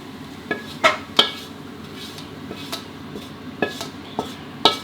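Fried garlic and oil being strained in a pan for garlic-pepper pork ribs, with sharp metallic clinks and scrapes of a utensil against the pan at irregular intervals over a quiet background.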